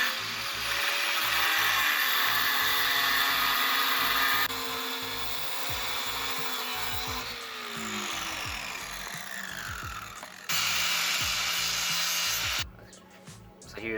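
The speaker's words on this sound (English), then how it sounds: "Philip's using a wire on the back side, like scratching the mark, so we know where to drill." A wire scratches a mark into the back side of a metal mounting bracket for a Toyota AE86 factory seat, giving close, rhythmic rasping strokes that run in bursts with short pauses between them.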